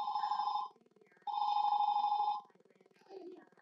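A cell phone rings with an electronic tone in two long bursts separated by a pause, clear and fairly close, with a child's brief babble after it.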